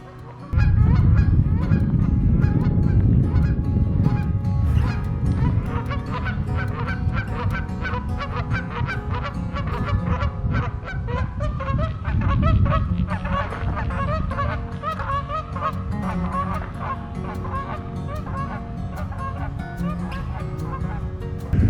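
A flock of wild Canada geese honking continuously and loudly, many overlapping calls in a steady chorus, with low rumbling noise underneath.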